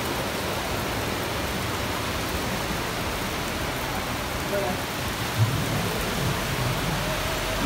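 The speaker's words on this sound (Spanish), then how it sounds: "Señor aguacero." Heavy rain pours down in a dense, constant roar, steady and close with no break.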